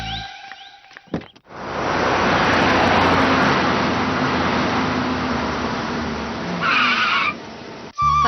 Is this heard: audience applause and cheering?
no